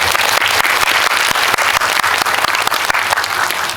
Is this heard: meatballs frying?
no